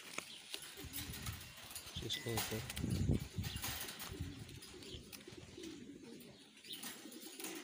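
A homing pigeon coos softly in a loft setting, its low warbling calls mixed with faint rustling and quiet voices in the background.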